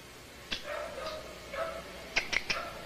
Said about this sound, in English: We'd like to thank Ted at Roll Bar Kennels for letting us get this dog down here